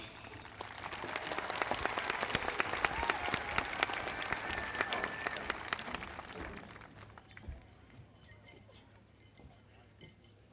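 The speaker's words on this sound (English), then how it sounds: "Give a round of applause" A crowd at the 2019 Magna Vista High School graduation ceremony applauds a diploma recipient. Dense clapping with a few light clinks builds, then thins and fades away toward the end.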